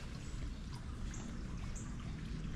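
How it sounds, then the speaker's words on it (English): A little clear limestone creek at Colonial Williamsburg flows with a steady, close watery rush and trickle that stays even throughout, with no talking. "This little river and Little creek."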